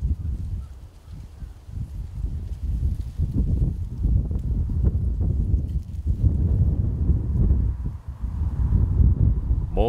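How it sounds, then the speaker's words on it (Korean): Strong, gusty wind blows across a valley reservoir on a cold spring day during fishing, a steady low rushing roar that swells and buffets the microphone throughout, with no voices. "오늘도 날씨가 바람이 왜 이렇게 불어."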